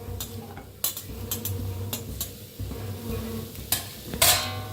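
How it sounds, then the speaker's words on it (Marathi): Sliced onions fry in an iron kadhai, a soft sizzle broken by sharp clinks and scrapes of a spoon stirring against the pan. "कांदा भाजतोय"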